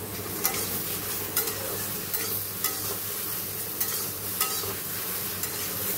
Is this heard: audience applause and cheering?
no